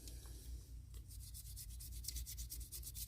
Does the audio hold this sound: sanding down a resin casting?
yes